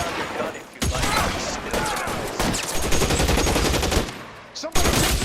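Bursts of gunfire from the video game L.A. Noire, dense rapid shots crackling in several volleys with brief pauses between them, loud and close, with shouted voices mixed in.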